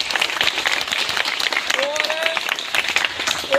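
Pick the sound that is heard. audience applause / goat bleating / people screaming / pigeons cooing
audience applause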